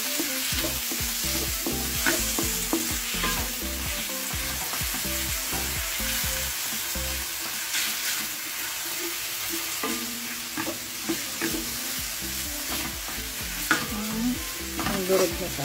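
Tomatoes stir-fried for ginisang burong mustasa, a steady loud sizzle with frequent clattering stirs and scrapes of the utensil against the pan throughout, close up and with no talk.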